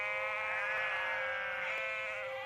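Sheep bleat in a continuous, wavering, nasal cry that holds steady and fairly loud for a couple of seconds over low background noise.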